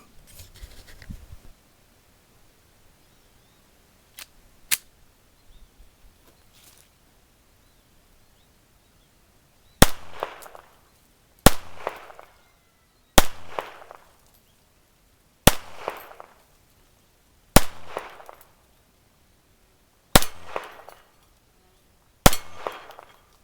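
A Dreyse M1907 pistol fires in the open at close range: eight sharp, loud shots spaced roughly every one to two seconds, each with a short ringing decay, after a few quieter handling clicks.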